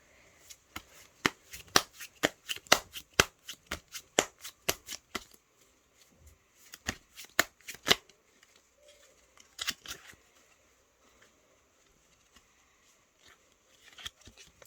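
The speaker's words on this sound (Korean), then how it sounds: "먼저 첫 번째 카드를 섞는 게 기본이에요." A deck of playing cards riffled and shuffled by hand for a card game, bursts of rapid crisp flutters followed by sparser snaps and pauses, close and clear with no talking.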